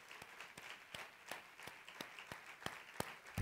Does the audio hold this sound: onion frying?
no